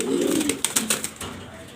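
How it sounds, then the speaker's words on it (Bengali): A pigeon coos softly and close by, a short throaty call followed by a few light flutters or clicks. "এত সুন্দর একটা কবুতর"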